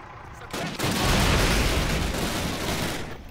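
A burst of gunfire in a Call of Duty game, loud booming shots that begin abruptly after a quiet opening and roll on as a sustained, dense crackle before easing off.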